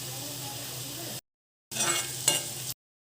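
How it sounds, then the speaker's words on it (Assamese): Onions and green chili dropped together into hot oil in a pan, a dense hissing sizzle that cuts out, then returns louder with a brief clink and stirring scrape, no talking. "তেলখিনি গৰম হৈ গ'ল এতিয়া দি দিওঁ পিঁয়াজ আৰু জলকীয়া একেলগে দি দিছোঁ"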